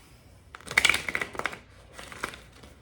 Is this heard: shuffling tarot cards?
yes